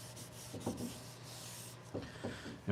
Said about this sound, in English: we're just going to start polishing this pole